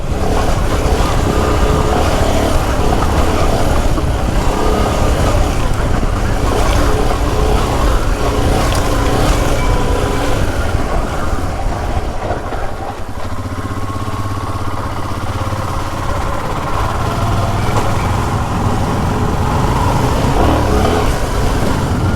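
Royal Enfield Himalayan motorcycle with upgraded suspension ridden on urban trails, a loud continuous engine roar heavy with wind buffeting, rising and dipping slightly as the ride goes on, no talking.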